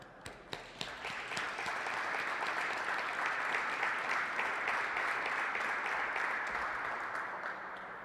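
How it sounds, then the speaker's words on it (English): Audience applause in a hall for parents and caregivers of people with rare diseases, starting with a few separate claps, swelling into sustained steady clapping, then easing slightly toward the end. "they deserve a round of applause"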